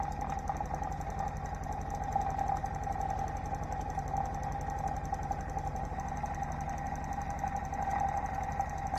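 A homemade magnetic switching motor runs at full power near 700 RPM, giving a constant close mechanical hum with a steady tonal whine and fine rapid pulsing throughout, no voices.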